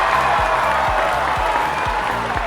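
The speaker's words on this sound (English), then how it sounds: "Crowd goes wild" Crowd cheering and applause used as a podcast intro sound effect, a loud, continuous roar of clapping and voices with a rhythmic low thump pulsing underneath.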